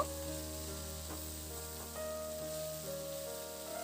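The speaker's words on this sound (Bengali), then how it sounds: "মশলাগুলোকে দিয়ে আলুর সঙ্গে খুব ভালো করে একটু নাড়াচাড়া করে আমি আবার কয়েক মিনিট সময় একটু ভেজে নেব" Potatoes and long beans (borboti) frying with spices in a pan, a soft, low hiss with light scattered crackles, quiet and steady beneath a faint background hum.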